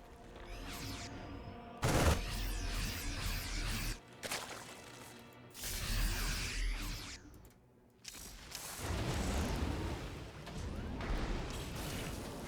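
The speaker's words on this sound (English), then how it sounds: "Widow Mines just exploderating both sides simultaneously." Widow Mines detonate in StarCraft II, a series of loud bursts and crackling blasts with mechanical clatter, arriving in several separate waves across the stretch.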